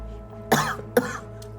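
A woman coughs twice in quick succession, close and fairly loud, then a faint third hack, while eating spicy food at a table indoors.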